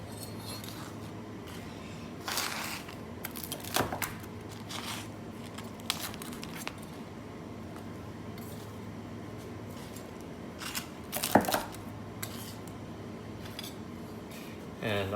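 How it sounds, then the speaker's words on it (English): A knife cuts pita into wedges on a kitchen board, quiet scattered scraping cuts and light clinks with brief taps, close but faint. "I'm just gonna go ahead and cut those up into wedges."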